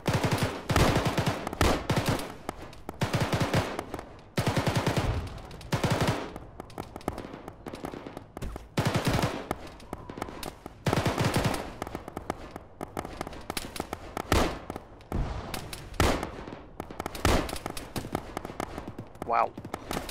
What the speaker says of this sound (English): Somebody's putting accurate fire on this bunker.